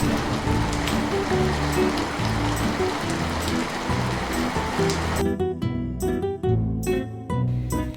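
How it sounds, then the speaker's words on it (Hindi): Heavy rain pours in a dense, steady hiss with scattered drops spattering on surfaces, loud and continuous, thinning into patchier bursts toward the end. "रास्ते में तेज बारिश शुरू हो गई"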